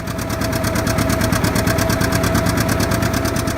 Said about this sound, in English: the deep rumble of the Model R diesel engine starting up in the early morning mist